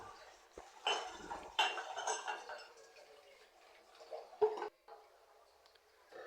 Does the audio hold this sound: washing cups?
yes